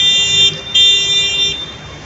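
A Venice vaporetto water bus sounds its horn, a loud steady tonal blast cut by a short gap and then resuming, close by on the canal over low engine and water rumble.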